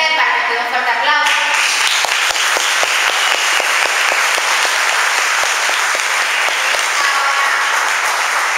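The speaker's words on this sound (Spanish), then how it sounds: "Karen, bienvenido a Pimentel, para que te dé un fuerte aplauso." An audience at a business seminar applauding, a steady dense roar of clapping hands lasting several seconds, with a voice over a loudspeaker at the start.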